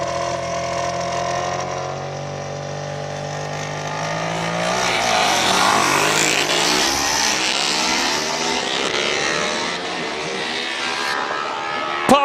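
A super-lightweight KTM-powered single-seater race car accelerates up a hill climb course, its engine rising and falling through gear changes as it passes, loud and close, then receding.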